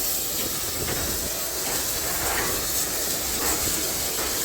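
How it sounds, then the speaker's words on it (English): A steam locomotive hauling a goods train hisses loudly and continuously as it rolls slowly into a station platform, with faint rhythmic rail noise beneath the steam. "this pulling in on platform 2 is a goods train, this time being pulled by steamer"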